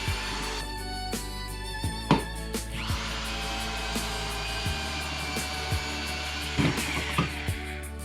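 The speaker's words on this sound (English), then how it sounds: "I just get out my jig and start drilling." A power drill bores pocket holes with a jig into wooden picket tips for a frame, its motor whining up and down between sharp clicks and knocks of the tool and workpiece.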